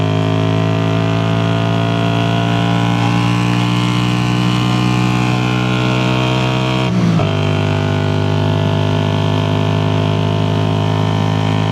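A 1981 Honda CX400C motorcycle engine held at full throttle, a loud steady droning roar with strong harmonic whine that dips briefly midway and then carries on, no voices.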